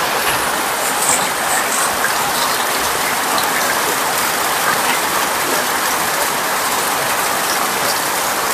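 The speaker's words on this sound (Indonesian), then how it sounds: "Yang jelas sudah 7 jam hujan tidak berhenti." Heavy rain pours down steadily during severe flooding in Makassar, a dense, loud hiss of drops with no letup.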